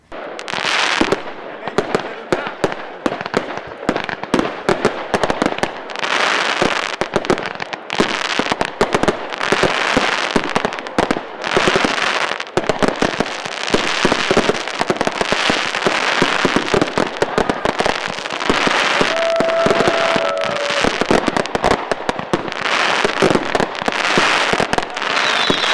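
Fireworks close a winter carnival evening in Quebec, a long, dense run of loud bangs and crackling bursts that barely pause.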